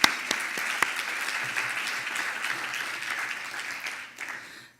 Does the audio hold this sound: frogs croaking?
no